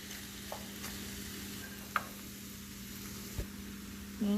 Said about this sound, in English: just mix that around, get the onions kind of broke up. I want them all to cook together